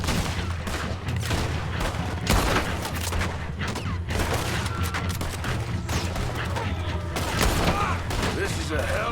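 Gunfight in the video game Red Dead Redemption 2, with repeated loud gunshots cracking at irregular intervals, some in quick bursts, over a busy background of game sound and effects.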